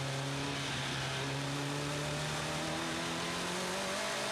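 TVR Tuscan Challenge race cars accelerate hard out of a right-hand corner on a racing circuit, producing sustained rising engine tones. Several cars are audible close together, with no talking over them.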